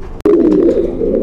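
A pair of Beauty Homa pigeons at a pigeon market gives a close, low, drawn-out coo after a sharp click.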